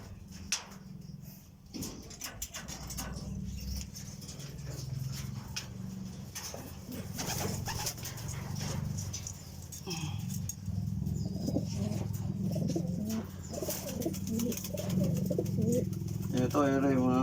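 Racing pigeons coo in soft, low, throaty bursts at a loft during a derby, with scattered chirps and occasional wing flaps, under intermittent talk from people nearby.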